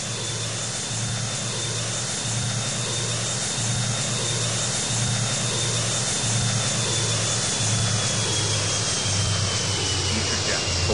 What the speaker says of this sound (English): Cleared for takeoff, runway 27.